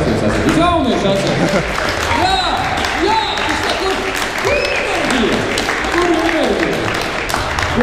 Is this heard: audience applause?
yes